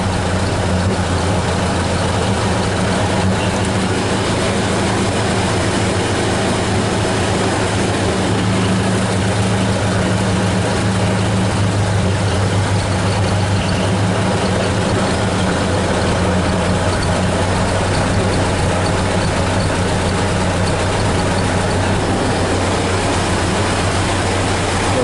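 A 1930 Ford Model A engine, running on an 8 volt battery, rumbles continuously and loudly up close, a steady idle that holds unchanged throughout.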